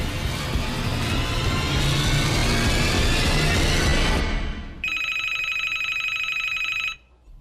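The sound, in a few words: telephone ringing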